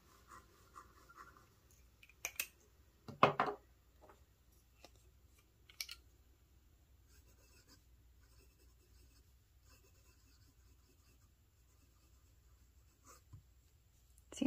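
Fountain pen nib scratching across textured notebook paper, a few distinct bursts of close writing strokes separated by quiet stretches, with faint scattered taps and rustles.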